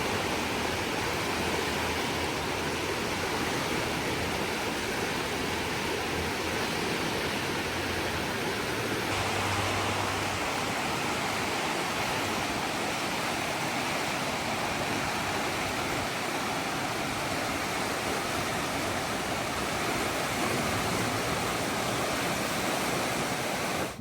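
Steady, loud rushing floodwater roars continuously beneath a bridge in Gatlinburg after Hurricane Helene, a broad unbroken wash of sound like fast current, with no voices.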